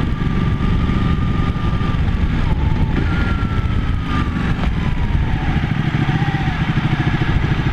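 A Ducati 1199 Panigale S motorcycle accelerates hard in race mode, its engine roaring loud and close with steady wind rush throughout, rising pitch sweeps as it revs through gears.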